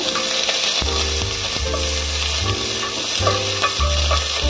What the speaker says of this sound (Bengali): এরপর সব কটাকে ভালো করে খুব নাড়িয়ে নেব।